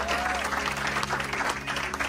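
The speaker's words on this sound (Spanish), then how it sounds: "Dele palmas al Señor" A church congregation claps in dense, rhythmic unison during a sermon, loud and close, with voices faintly mixed in.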